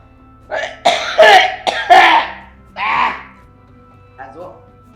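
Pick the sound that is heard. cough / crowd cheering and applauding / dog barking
cough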